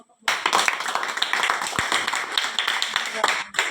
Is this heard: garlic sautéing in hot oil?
no